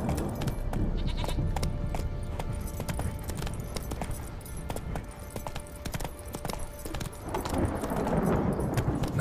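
Hoofbeats of Geralt's horse Roach in The Witcher 3: Wild Hunt, a steady galloping clip-clop of hooves close by, mixed with outdoor game ambience and no talk.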